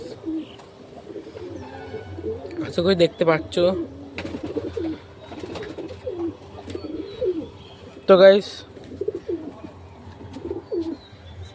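Wild pigeons coo in repeated low, throaty phrases close by, while a person talks over them throughout.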